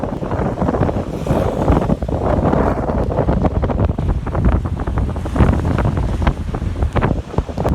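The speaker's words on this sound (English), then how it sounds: "That's some serious storm that's coming across here now." Storm Ciara gusting along a seaside pier in the UK, loud roaring wind buffeting the microphone over crashing waves and surf, turbulent and continuous with sharp bursts.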